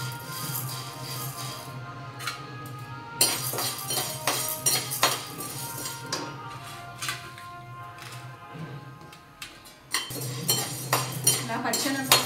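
Clinks and scrapes of a utensil stirring chana dal frying in a pan, with steady cooking noise beneath. It sounds close and moderately loud, with bursts of clattering metal at irregular intervals.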